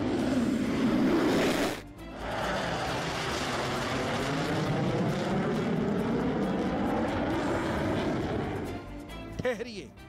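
South Korean F-15 fighter jets taking off together, a loud, sustained roar of jet engines that swells and holds across the runway, with a brief dip early on and a rumble fading near the end.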